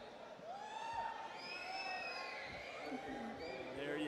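A crowd at a Gears Pro Circuit esports event in Mexico City cheers and whoops in the background, rising and falling under loud commentary from a caster.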